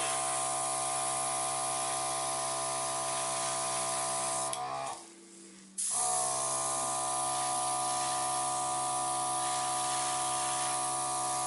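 A loud airbrush compressor hums and hisses steadily while spraying, with a drone that continues throughout, broken by one short dip around the middle.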